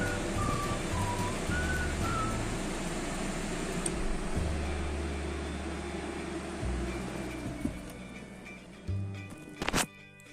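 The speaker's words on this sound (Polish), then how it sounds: "On cały czas po prostu wentylator chodzi nawet na włączonym zapłonie." A VAG car's air-conditioning fan runs constantly with the ignition on, giving a steady broadband whoosh with faint tonal whines and low hum, and a brief clatter near the end.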